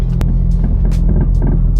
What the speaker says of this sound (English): You just hear the metal just rubbing, vibrating.